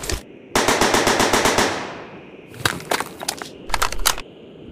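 In the video game Gorebox, a Steyr AUG A1 rifle fires close and loud in rapid bursts, first a single shot and then a long automatic string, followed by two shorter bursts with brief pauses between.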